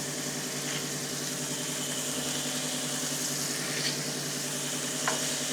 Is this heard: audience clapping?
no